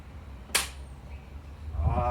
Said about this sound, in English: I might try 1 clap first.